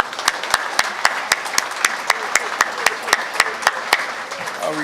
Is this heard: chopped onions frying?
no